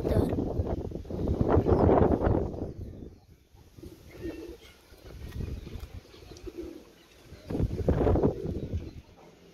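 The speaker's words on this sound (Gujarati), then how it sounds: "કબૂતર હેઠળ ઉતરી ગયું છે, પાણી પીવા આવ્યું." Soft cooing from a pigeon that has landed to drink water, heard outdoors against wind noise and rustling, moderately close but faint.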